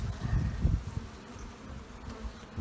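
Honey bees buzz in an opened hive during a January inspection, a steady low droning hum from many bees close by, with no voices.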